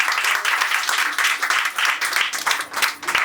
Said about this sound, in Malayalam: സോ നല്ലൊരു കയ്യടി കൊടുക്കാം